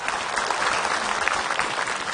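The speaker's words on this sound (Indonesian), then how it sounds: "tepuk tangan buat Ustadz Cecep" Dense, steady applause from an audience honoring a preacher at an Islamic religious gathering, a loud continuous wash of clapping throughout with no voice over it.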